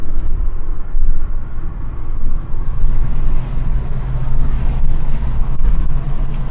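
A 1990s Volkswagen Polo Coupe Mk2F with a 1-litre engine accelerates hard to overtake, its low engine drone loud and steady from inside the car with road and wind rumble, no talking.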